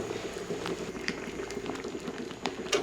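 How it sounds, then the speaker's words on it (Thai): Water boiling steadily in a pot of beef on the stove, a continuous bubbling rumble with occasional louder pops, close and moderately loud with no talking. "ตลอดเวลาที่ต้มน้ำต้องเดือดนะครับ"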